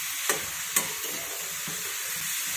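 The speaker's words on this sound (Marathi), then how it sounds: "ते परतून घेऊयात अगोदर।" Ridge gourd stirred in hot oil with turmeric makes a soft, even sizzle, with two crisp spatula taps early on and a quieter knock later. No one speaks.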